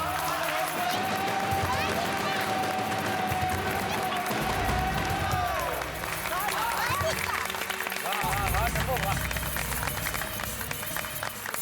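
A crowd bursts into sustained applause and cheering to honor Tappu, dense clapping and babble running throughout with voices mixed in.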